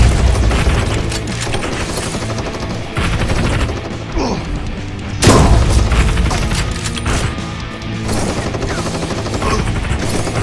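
Crossfire: Sierra Squad in VR, with RPG rocket blasts and heavy gunfire making a loud, continuous wall of booms, crashes and rapid shots, including a big explosion in the middle.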